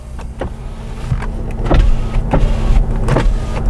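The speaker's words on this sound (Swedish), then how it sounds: "Elhissar, sånt kan man prova när man sitter i bilen." Power windows of a Jaguar XJ (X300/X308) motoring up and down inside the car, several whirring runs with clunks at the ends, close and fairly loud with steady motor hum.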